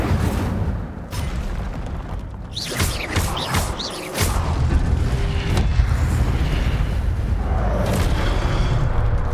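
Booming fire-spell blasts from the Hogwarts Legacy video game, with a sharp burst of crackling magic effects in the middle followed by a loud, sustained rumbling roar that continues to the end.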